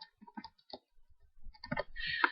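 Mouse clicks in video editing software, several short isolated ticks spaced apart, fairly close and quiet, followed by a louder burst of hiss and rustle near the end.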